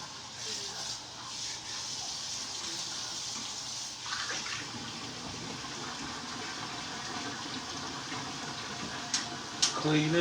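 Water running into a kitchen sink while it is being cleaned, a continuous close rushing flow with brief clatters near the end and some talking over it.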